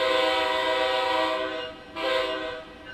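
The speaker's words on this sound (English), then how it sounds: "the Acela Express has two different horns. It has a quiet one, and it has a loud one." Acela Express electric train horn in Train Sim World 4, a loud sustained multi-tone chord blast, a brief break, then a second blast sounding close and steady.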